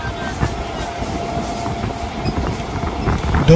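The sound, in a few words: Indian local train running on the tracks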